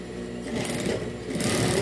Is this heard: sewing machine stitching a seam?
yes